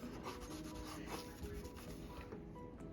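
Tamiya paint being scraped off a Kyosho Honda S2000 model car body, a continuous close rubbing and scratching with uneven strokes under a constant hum, no one talking.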